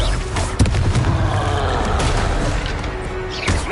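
Confringo blasting-curse explosion in a Harry Potter game: loud booming blasts over a dense, rumbling wash of noise, with a sharp hit early and another near the end.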